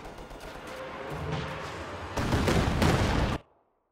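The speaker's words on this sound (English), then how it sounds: "Katyusha firing." Katyusha rocket artillery firing in a Company of Heroes-style World War II video game: a dense rolling salvo of blasts that grows louder midway, then cuts off abruptly into silence.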